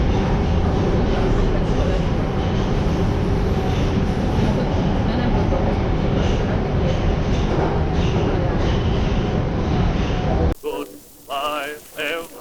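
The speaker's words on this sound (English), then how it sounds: "We're going to take the metro into the center of the city." A Budapest metro train rides toward the city centre, with a loud, steady rumble and rattling running noise for about ten seconds, then it cuts abruptly to a quieter stretch of talking.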